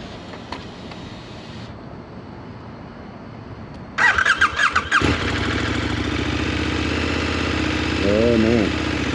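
A 2024 KTM 1390 Super Duke R engine starts with sharp revving bursts, then settles into a loud, steady, close-up idle with rising revs near the end, after quieter background noise.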